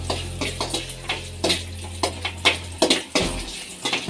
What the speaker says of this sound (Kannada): ಅದನ್ನು ಕೂಡ ತುಪ್ಪದಲ್ಲೇ ಫ್ರೈ ಮಾಡ್ಕೊಬಿಡೋಣ.